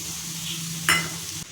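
Crushed jackfruit seeds hit a hot pan with onion and shrimp, giving a steady sizzle that swells briefly as they go in and then settles back.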